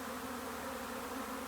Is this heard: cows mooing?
no